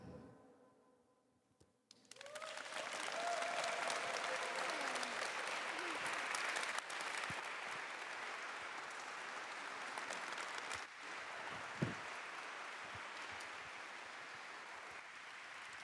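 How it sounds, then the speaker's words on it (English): Audience applause for young poets at a 2021 Filipino American History Month event, a sustained roar of many clapping hands that swells after a quiet start and holds steady, with faint voices mixed in. "Another round of applause for our young poets, Juniper Dorado, Zoe Dorado, and Alessandra"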